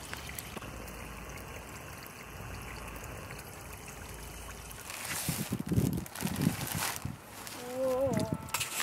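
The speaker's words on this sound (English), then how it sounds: "Now we're going to fill the pond with water." Water pours and splashes into a small backyard pond being filled, first as a faint trickling flow, then louder, uneven sloshing in the second half, with a brief voice near the end.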